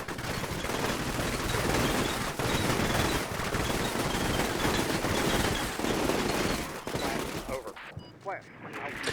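Bursts of automatic rifle and machine-gun fire at close range crackle and stutter almost continuously in the Combat Mission Shock Force 2 war game, with a dense, overlapping fusillade of shots that thins out near the end.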